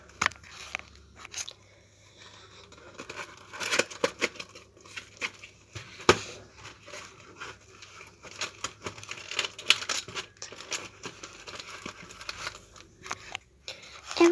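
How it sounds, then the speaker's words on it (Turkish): An Edding 344 highlighter pen set being unboxed, with crinkling packaging, crunching plastic and small clicks in irregular bursts, close and fairly quiet, with no talking. "Bugün sizlerle birlikte bu Etlink 344 Highlighter fosforlu kalemlerin setini açacağız."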